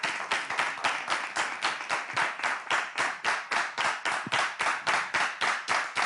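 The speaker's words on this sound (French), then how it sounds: "Applaudissez pour elle." Audience at a French literary culture event applauds a returning laureate with steady, rhythmic clapping from a small crowd, fairly close, continuous throughout with no talk over it.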